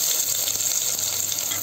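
Onion sizzles in hot oil with mustard seeds and cumin, a steady close hiss of frying with faint crackles throughout.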